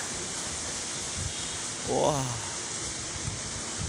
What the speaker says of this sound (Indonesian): Anginnya banter loh yang.